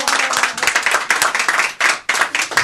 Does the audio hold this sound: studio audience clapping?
yes